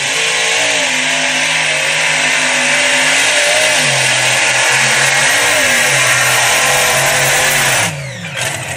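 Supercharged big block Chevrolet engine revs loudly and continuously, its pitch rising and falling in waves across the clip before cutting off sharply near the end.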